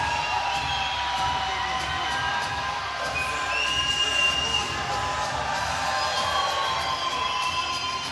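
A crowd at a grappling match cheers and shouts loudly and steadily, with whoops rising above a dense wash of noise throughout.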